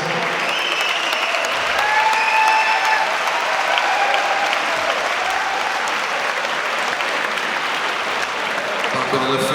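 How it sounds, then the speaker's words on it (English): A fight-night crowd at a combat sports event in a hangar in Wolverhampton applauds both fighters after an explosive first round, with steady, loud, dense clapping and some cheering lasting throughout. "can we get a big round of applause, please, for both fighters?"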